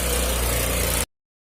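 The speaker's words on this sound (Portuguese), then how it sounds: "vou ligar minha moto e vou partir para a Grécia" A motorcycle engine runs at a steady, rumbling idle, loud and close, for about a second before cutting off abruptly into silence.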